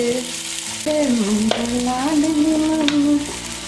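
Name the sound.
fish frying in a pan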